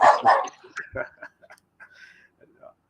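A dog barks twice loudly and close, then follows with softer yips and whimpering sounds that fade into quiet.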